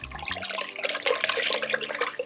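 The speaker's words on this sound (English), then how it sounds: "pour the milk into your liner that you have" Milk pouring into an Instant Pot liner at the start of homemade yogurt, a steady close liquid stream splashing and gurgling throughout with no talk.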